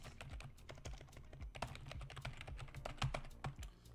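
Steady computer keyboard typing, close and fairly quiet, with irregular clustered keystrokes and a few heavier key presses, no voice.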